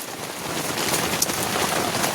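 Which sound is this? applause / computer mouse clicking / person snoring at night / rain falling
rain falling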